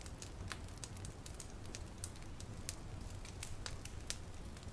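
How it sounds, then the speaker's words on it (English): A fire crackles softly with steady scattered pops and snaps over a low continuous hum, quiet and close, with no voices. "listening to the fire hum and crackle away"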